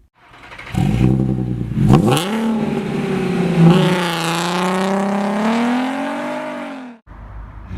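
A Jeep pulling a car trailer accelerates from rest, the engine note climbing steadily through a long revving pull, loud and close, then cutting off abruptly near the end.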